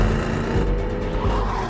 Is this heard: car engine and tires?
yes